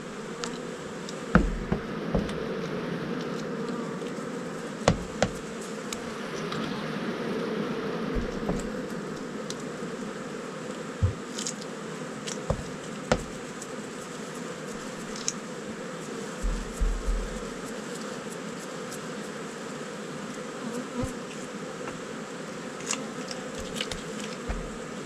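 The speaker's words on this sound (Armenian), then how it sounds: "Մեղուն թափում է, բայց պատերին ենքան մեղու կա" Honey bees swarm around hive frames, a dense continuous buzz close by that lasts throughout, broken by occasional knocks and taps of the wooden frames being handled.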